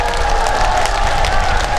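Dense, steady applause from a festival crowd watching a pumba folk comedy performance at the 2019 Eumseong Pumba Festival, loud and continuous throughout with no break.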